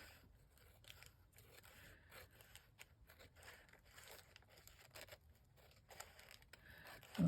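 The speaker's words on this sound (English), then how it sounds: "cut the paper." Scissors snipping through paper for a journal craft project, a close, quiet series of irregular crisp cuts and rustles.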